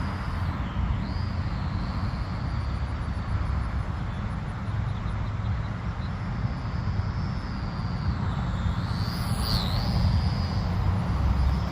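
A small Vevor T28 Trojan electric RC park flyer plane flies slowly overhead, its thin motor whine wavering faintly over steady outdoor wind rumble.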